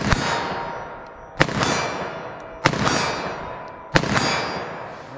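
Four loud, sharp revolver shots fired double action with Underwood XTP ammunition. They come at roughly even intervals of about 1.3 seconds, and each one rings out and decays with a metallic tail.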